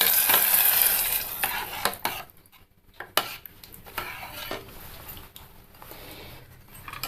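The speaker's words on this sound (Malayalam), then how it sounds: "ഇനി നമുക്ക് ഇതൊന്ന് ഇളക്കി കൊടുക്കാം." A pot of koorka erissery, a Kerala curry with Chinese potato, stirred with a spoon: irregular scraping and clinking strokes against the pot, louder at first, then softer with brief pauses, over a faint simmer.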